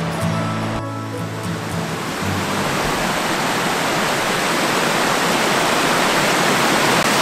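A steady, loud roar of rushing water from a waterfall, broad and continuous throughout, with a brief low bump near the start.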